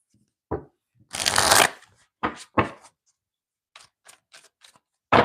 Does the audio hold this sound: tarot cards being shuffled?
yes